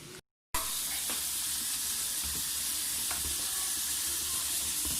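Liver with garlic sizzles and simmers in a pan, making a steady, close frying hiss with a few faint clinks in the background.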